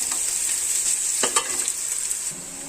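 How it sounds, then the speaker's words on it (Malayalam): Onions crackle and sizzle steadily in hot oil, a close, continuous hiss with a few brief scraping stirs. "നമ്മുടെ ഉള്ളി ഇട്ട് ഇവിടെ നല്ലതായിട്ട് മുരിഞ്ഞ് വന്നിട്ടുണ്ട്"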